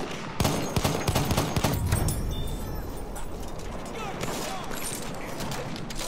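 Rapid gunfire in the Battlefield 1 World War I shooter game comes as a fast burst of sharp shots, followed by continuing fainter battle noise.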